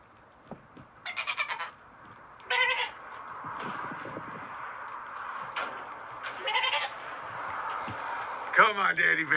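Several goat bleats ring out in short bursts spread across the clip, some wavering and some clipped, with faint background noise between them.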